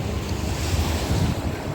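Surf rolling onto the beach at Libaliwis, San Fabian, Pangasinan, a steady loud wash of breaking waves with wind buffeting the microphone throughout, no voices.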